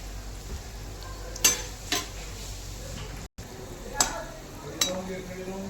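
Balushahi frying in oil on a low gas flame, a soft steady sizzle broken by a few sharp clinks and scrapes of a utensil against the pan.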